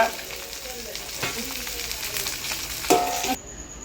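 Fish frying on a hot tawa crackles and spits in a lively close sizzle, with a few scrapes and a metallic clink near the end before it cuts off.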